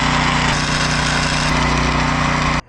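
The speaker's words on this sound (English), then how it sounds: "Weld the back, weld the front," A boat trailer actuator is welded in place, giving a loud, harsh, continuous electric buzz that holds steady for over two seconds and then stops abruptly.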